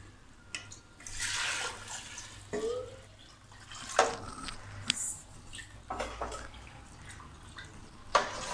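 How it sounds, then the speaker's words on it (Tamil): Water splashes and drips as four tumblers of it go into a pot of rice for Chettinad chicken biryani. The sound comes as irregular close pours and trickles with sharp drips, and no one speaks. "இப்போ நான் 4 டம்ளர் அளவுள்ள தண்ணியை இதில் உள்ளே சேர்த்துக்கிறேன்."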